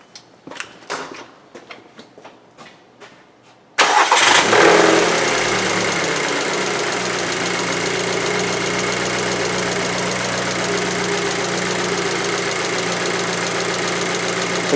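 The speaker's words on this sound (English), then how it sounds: "Turn the key on, or start the car." A 2006 Volkswagen Passat 2.0T with a no-power fault catches after a few faint clicks and cranking, then settles into a loud, steady idle that runs close and unbroken to the end.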